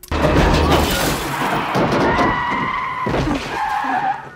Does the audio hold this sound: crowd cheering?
no